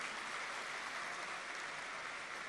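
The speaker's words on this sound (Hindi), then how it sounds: "जोर से ताली बजाओ।" A large audience applauds steadily at a spiritual gathering, a dense, even wash of clapping that holds without a break, heard from a distance and fairly faint.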